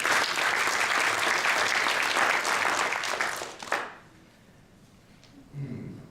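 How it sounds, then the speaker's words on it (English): Audience applause at a closing address: dense, steady clapping from a crowd fills roughly the first four seconds, then cuts off abruptly, leaving quiet room noise and a brief low thump near the end. "a round of applause too."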